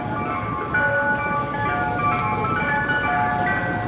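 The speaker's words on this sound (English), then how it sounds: "There's an ice cream truck. Everybody knows the sound." An ice cream truck jingle chiming its melody on a Times Square street in New York City, moderately distant under steady city traffic noise, with no talk over it.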